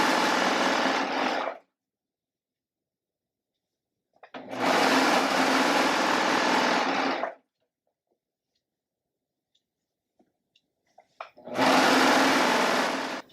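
A serger stitches binding onto a quilt in three loud, close bursts of steady high-pitched whirring, each lasting a few seconds and separated by silent pauses.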